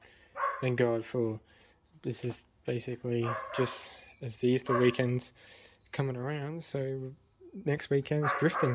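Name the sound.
neighbour's dog barking in the background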